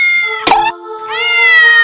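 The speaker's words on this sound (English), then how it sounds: "look at this adorable, scrumptious little possum cat" A small cat gives two clear, close meows, the first short with a brief rustle and the second a drawn-out rising call.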